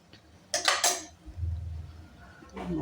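Cooked chickpeas, potatoes and carrots are moved into a pot with a few sharp metallic clinks of spoon against cookware, followed by softer scraping thuds and another clatter near the end, close and fairly quiet.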